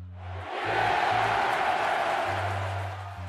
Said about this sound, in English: the crowd is loving it. They're roaring louder than a lion with a toothache.